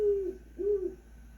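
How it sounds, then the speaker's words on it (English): Great horned owl giving two low, soft hoots in quick succession, clear and isolated against quiet background. "It was the great horned owl."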